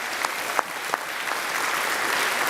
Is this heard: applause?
yes